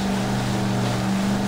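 Motorboat engine in Far Cry 3 drones with a steady, loud, continuous hum alongside a wash of water, close by and without a break, and no one speaks over it.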